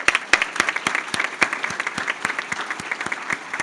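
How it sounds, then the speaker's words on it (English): Steady applause from the audience at a college adult high school and high school equivalency graduation ceremony, with dense clapping throughout and several sharp, loud individual claps standing out in a regular rhythm, with no one talking. "Let's give them a round of applause because they have been there for you."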